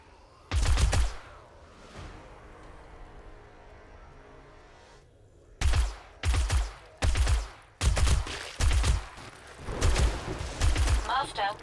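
Rapid, loud gunfire in the zombie survival game 7 Days to Die during a blood moon horde: a single burst, a quieter lull, then a long run of close, punchy shots in quick succession.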